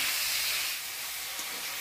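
Ridge gourd hits a hot pan of spiced potatoes in a village kitchen, giving a loud, steady hissing sizzle that eases slightly after the first moment.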